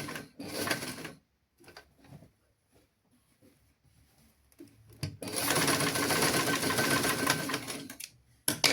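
Sewing machine stitching a child's dress in a tailoring lesson, with short bursts near the start, a long steady whirring run in the second half, and a final brief burst at the end.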